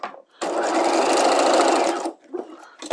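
A sewing machine runs a straight seam across a dress bodice, a steady buzzing whir for about a second and a half, starting and stopping abruptly, with quieter handling sounds around it.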